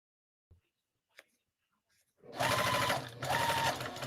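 A sewing machine starts up after a few faint clicks and handling taps, then runs loudly at a steady buzzing pace for under two seconds with a brief dip midway.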